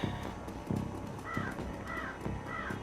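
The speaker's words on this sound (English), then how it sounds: "Bird just scared the absolute piss out of me." Crow caws in the video game Shadowrun Returns, three harsh calls spaced about half a second apart over a dense, rumbling game ambience with low thuds.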